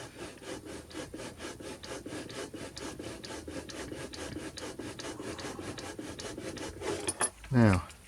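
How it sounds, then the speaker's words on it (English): Card scored against a piece of wood while building a canoe: a steady, close rasping scrape of rapid repeated strokes for about seven seconds, ending in a brief louder scuff, with no talk. "then I can just score the card"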